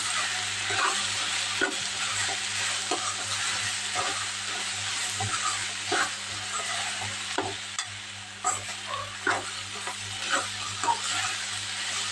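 Chopped tomatoes fry in a pan, salted and spiced with a little chili powder, giving a steady close sizzle and hiss broken by the scrape and clatter of stirring.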